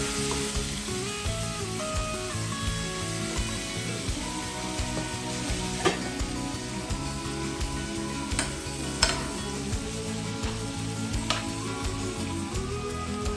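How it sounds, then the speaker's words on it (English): Steak sizzling in butter on a portable electric cooker, a continuous close crackling fry with occasional small clicks and ticks, no talking. "the meat is going in, and we forgot that we already mixed butter with our meat"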